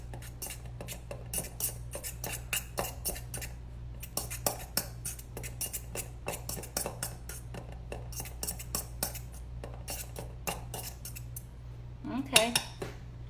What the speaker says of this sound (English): You can use your fork if you want to mash it up in there